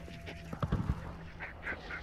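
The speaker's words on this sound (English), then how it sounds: "These ducks are fucking bugging out." Ducks in the video game Hunt: Showdown give a few nasal quacks and honks, moderately close and spaced unevenly, over a low ambient game hum, with a brief thump midway.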